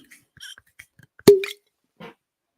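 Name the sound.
cork popping from bourbon whiskey bottle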